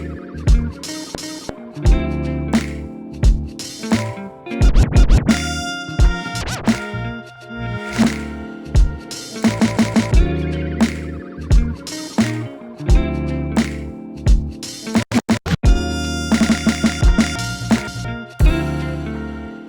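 A beat played on an Akai MPC Sample with FlexBeat effects: punchy drum hits and bass in a steady loop, with stuttering, glitchy and filtered bursts cutting in and out. Loud, with no talking.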